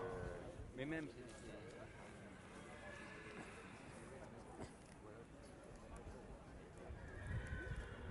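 A show horse whinnies once near the start, then hooves clip-clop on the ground of a breeding show ring while an announcer talks steadily over the crowd and arena noise throughout.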